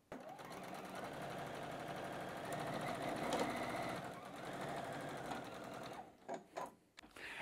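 A sewing machine hums at a steady, even pace as it sews the shorter sides of batik fabric onto a center block, then slows into a few brief stuttering bursts before stopping.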